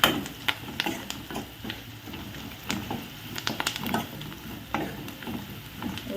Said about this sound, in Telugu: ఇప్పుడైతే వేయించుకుంటాం ఫ్రెండ్స్